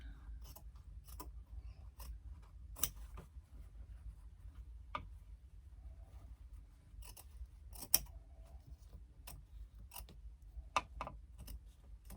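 Scissors snip in short, crisp, irregular cuts while trimming lining fabric away from a hobo shoulder bag, close and quiet against a low steady background hum.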